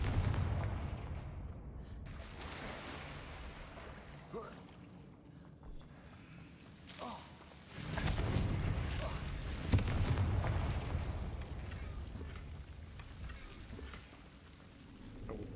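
Confringo explosive spell cast in Hogwarts Legacy, dull booming blasts over a rumbling, wind-like game ambience, with a louder swell of explosions midway.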